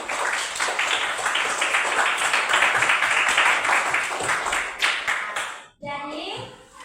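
A classroom of children claps together in a dense, lively burst of applause for about six seconds, which then stops abruptly, leaving quiet room sound and a faint voice.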